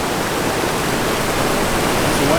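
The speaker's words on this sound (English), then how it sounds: "You're supposed to ford this river?" The Carrabassett River rushes steadily at a ford, a loud, dense, unbroken roar of fast-moving water heard up close throughout.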